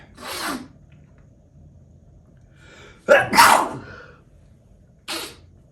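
A person with a cold sneezing, with three separate bursts spread out over several seconds, the middle one loudest with a sharp inhale, heard close against a quiet background.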